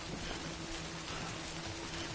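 Rain falling in the video game Death Stranding, a soft, even hiss of steady rainfall with no other sounds over it, faint and brief.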